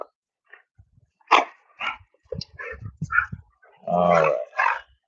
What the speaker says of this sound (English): Oh my gosh, these freaking dogs.